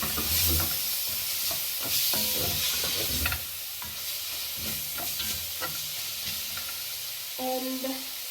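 Food with oil is stirred in a hot pan, a continuous sizzle and frying hiss broken by scraping and clinking strokes of the utensil against the pan, close up.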